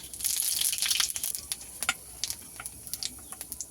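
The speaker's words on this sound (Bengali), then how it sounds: "মাছ ভাজার তেলের মধ্যে আরেকটু তেল দিয়ে দেব। দিয়ে দেবো 5 ফোড়ন" Bengali five-spice seeds (panch phoron) dropped into hot oil left from frying snakehead fish, a bright crackling sizzle that fades into scattered small pops and ticks, close and fairly quiet.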